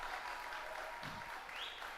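Faint crowd applause at a junior men's international tennis final in Spain, a soft, even patter of clapping heard from a distance for a couple of seconds.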